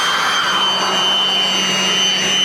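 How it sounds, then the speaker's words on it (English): A steady, loud whooshing roar of a cordless Ryobi 18V leaf blower running continuously, with a high whine over a broad rush of air. "It's my Ryobi leaf blower."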